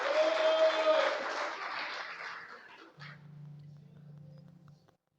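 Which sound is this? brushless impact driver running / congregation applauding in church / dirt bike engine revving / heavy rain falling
congregation applauding in church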